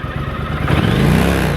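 A 1982 Honda CX500 Turbo motorcycle engine idles with a steady, dense mechanical rumble, then swells slightly louder partway through and holds there, close by with no talk over it.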